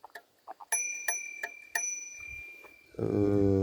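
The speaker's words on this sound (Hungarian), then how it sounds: "Gyárilag lehet hozzá csengőt." A bell on a Rockrider ST120 mountain bike rings with three bright metallic dings that ring out and fade, preceded by small clicks and followed by a louder droning tone.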